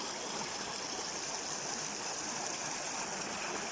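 A steady, close rush of flowing stream water surrounds someone wading knee-deep across a river on the Motatapu Track hiking route, continuous and unbroken with no voices.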